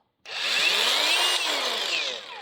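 A repaired handheld angle grinder starts up and runs steadily at high speed, a loud, close, even whine with a rising pitch as it spins up and no voices.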